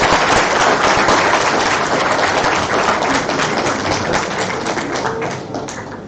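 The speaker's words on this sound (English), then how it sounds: "A round of applause for Dr." A conference audience at a medical forum on obesity applauds a speaker, with steady, dense clapping that holds for about six seconds and eases slightly at the end.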